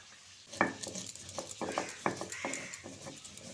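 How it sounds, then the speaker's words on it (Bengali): Spice paste is ground by hand on a stone slab, with a series of rough scraping, knocking strokes in an irregular rhythm, fairly close and moderately loud. "মশলাটা আমি শিলে বেটে নিচ্ছি"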